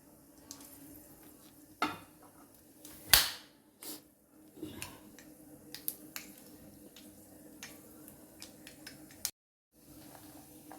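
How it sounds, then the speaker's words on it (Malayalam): Mustard seeds spluttering in hot oil while a tomato stir-fry (thoran) is being prepared: faint sizzling underneath, with a few sharp pops and crackles scattered through, one louder burst near the start. "നമ്മൾ കടുക് ഇട്ട് കൊടുക്കുക കടുക് ഇട്ടിട്ടാണ്"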